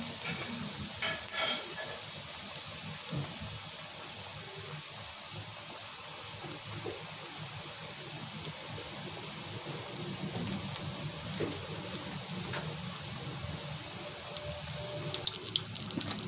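Samosas fry in hot oil with a steady, faint, rain-like hiss and crackle that continues evenly throughout.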